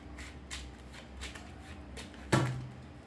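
A deck of tarot cards is shuffled by hand up close in a run of soft, riffling bursts, ending with a firmer tap as the deck is set down. No voices are heard.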